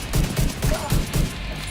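Rapid bursts of gunfire in Tom Clancy's The Division 2, about six heavy, punchy shots in quick rhythm, loud and close, fading out at the end.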